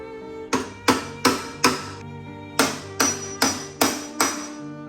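Eight sharp hammer strikes on wood, four in quick succession, a short pause, then four more, close and loud.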